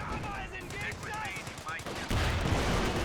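LMG machine gun fire in the Company of Heroes 2 strategy game, rapid crackling bursts of gunfire under a commentator's talk, growing louder and denser toward the end.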